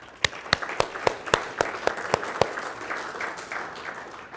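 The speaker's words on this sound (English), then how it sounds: "So let's give him a round of applause." Audience at an awards ceremony at an industry summit gives applause: about ten sharp, evenly spaced claps stand out near the microphone, then fade into softer scattered clapping.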